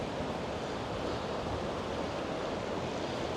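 Fast-flowing flood water rushes through a park after Storm Bert in Kettering, making a continuous broadband roar like surf that stays even and close for the whole stretch, with no voices.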